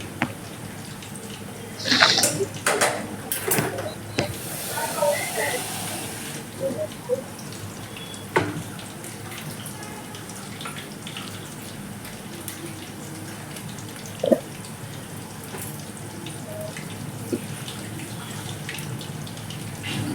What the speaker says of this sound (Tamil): இப்போ அரிசி ஒரு மூணு கப்பு எடுத்திருக்கேன் நான் சாப்பாட்டுக்கு அதை நம்ம கழுவி அடுத்த அடுப்பில் வச்சுருவோம்